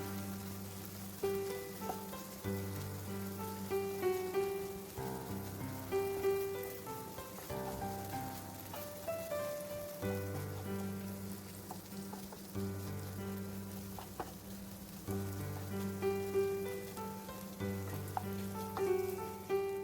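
Okra masala (bhindi) with spices frying in a pan, a continuous soft sizzle and crackle with faint stirring, steady and close without talk.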